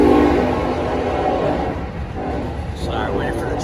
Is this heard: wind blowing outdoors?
no